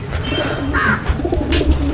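A loft of pigeons sold as a set, including Sialkoti and Rampuri birds, coos in soft overlapping throaty calls. The steady murmur sits over low background rumble, with the birds close.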